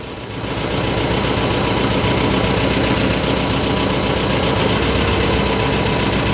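A T-40AM tractor engine fires up and settles into a steady, loud idle, its low rhythmic chugging running continuously.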